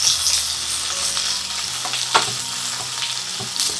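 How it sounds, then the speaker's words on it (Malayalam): Sliced onions, three of them, sauté in a pan with a constant crackling sizzle, punctuated by soft scraping stirs and a few louder spatula knocks, close and with no voices. "ഈ സവാള എല്ലാം നന്നായിട്ടൊന്ന് വഴന്ന് വരണം"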